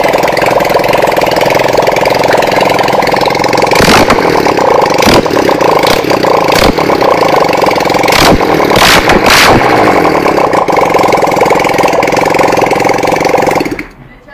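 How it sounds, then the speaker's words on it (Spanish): A Lifan 250 chopper motorcycle with open exhaust and no headers runs loud and close, a harsh rattling idle broken by several sharp throttle blips and pops before cutting off abruptly at the end. "va a hacer muchísimo ruido, no tiene escape."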